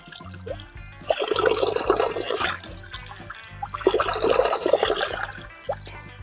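Water pours steadily from a traditional spring spout in two long bursts, a broad splashing rush that swells and eases, outdoors with a faint background hum.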